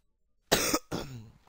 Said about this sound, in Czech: mám trochu kašel